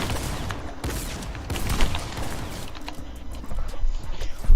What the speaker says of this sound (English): Oh, you're using an SMG.